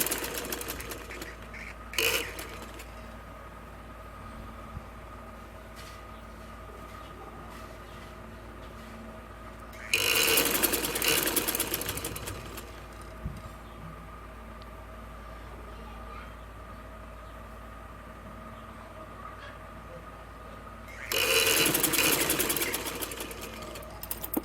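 Sewing machine stitching fabric for a small girl's sleeveless garment, running in three short bursts of rapid whirring separated by quieter pauses with faint background hum.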